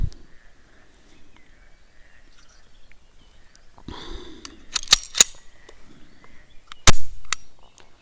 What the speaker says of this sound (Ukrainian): Постріляємо з холостого стартового пістолетика.